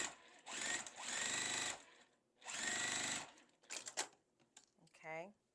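A sewing machine stitches a seam on a small Windmill Star quilt block in two sustained whirring runs, then a few short bursts and taps as the fabric is adjusted.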